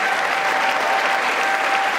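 Sustained applause from a large audience fills a chamber during the State of the Union address, a steady dense wash of clapping that holds at full volume throughout.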